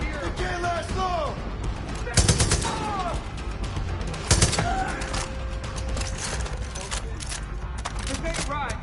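Gunfire during a Far Cry 5 firefight, rapid crackling shots with two sharper, louder blasts standing out, set against shouting voices and other battle noise.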